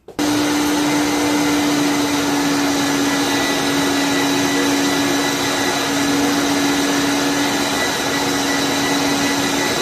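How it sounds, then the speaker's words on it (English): Electric meat grinder running continuously as it grinds pork and elk, switching on abruptly and holding a loud, steady motor whine with a constant hum for the whole stretch. "while we have the grinder out here, we're going with grind number two"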